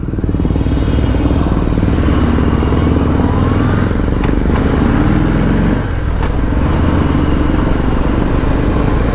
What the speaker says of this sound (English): I don't know how much of the grunt of the exhaust you can hear